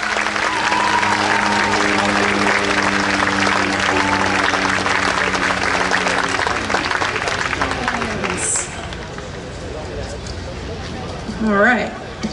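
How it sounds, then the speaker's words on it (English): Crowd applauding at an outdoor pride rally, a broad sustained wash of clapping and cheering that fades somewhat toward the end, with a voice and a brief whistle near the close. "Everybody, clap your hands."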